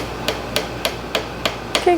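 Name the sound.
hammering wood wedges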